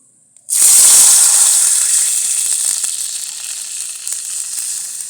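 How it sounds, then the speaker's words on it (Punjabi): Water is poured into a hot cooking pot for a Punjabi home-cooked rice dish, and it bursts into a loud, sudden hiss that settles into a steady, close sizzle for several seconds. "ਹੁਣ ਆਪਾਂ ਪਾਣੀ ਪਾ ਦੇਾਂਗੇ"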